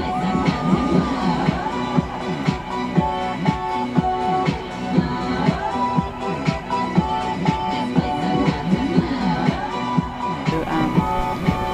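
A crowd of several hundred at a women's football match, cheering and shouting loudly and continuously with repeated swells, some voices sounding like children.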